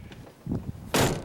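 A car door, one whose driver's side sags on worn hinge pins, swings shut with a single solid thunk near the end, after a couple of softer knocks and rattles of handling.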